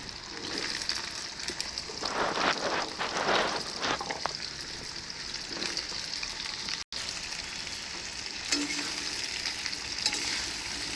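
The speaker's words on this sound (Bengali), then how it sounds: "প্রথমে আলু আর কুমড়োটা দিয়ে একটু নাড়ানাড়ি করে নিই।" Potato and pumpkin pieces sizzle and crackle in hot oil as a spatula stirs them through a pan, with a steady fry hiss and scraping bursts in the middle before the sizzle settles; no voices.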